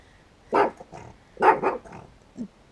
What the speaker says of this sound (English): our dog apparently needs to practice woofing